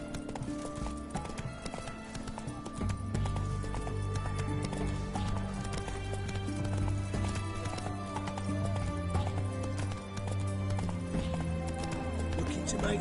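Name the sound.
horse Roach hooves clip-clopping, from Witcher video game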